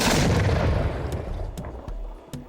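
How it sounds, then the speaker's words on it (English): A loud, booming explosion effect bursts at once and decays into crackling debris and a few sharp pops, added to an on-screen pop-up. "There, maybe right here with an explosion."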